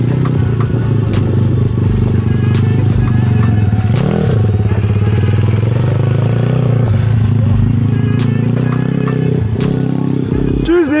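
Motocross motorcycle ridden through a forest, its engine droning steadily loud and close with revving swells as the rider shifts up into third gear; a voice talks over the engine noise.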